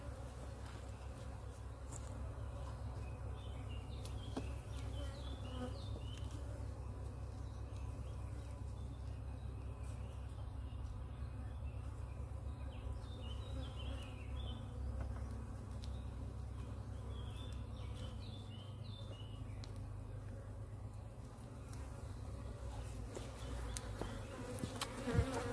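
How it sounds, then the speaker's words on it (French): Honeybees buzz steadily around an open hive while a beekeeper returns frames for the bees to draw out comb, a dense, close, continuous hum with no break. "je remets pour que les abeilles étirent et que la reine ponde"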